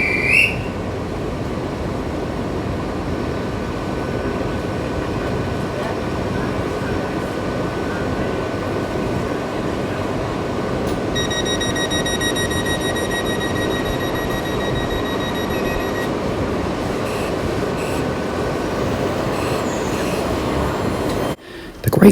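Great Western Railway's Night Riviera sleeper train rumbles past at St Germans in Cornwall, a sustained heavy roar of wheels and carriages with a brief high whine partway through, close and loud.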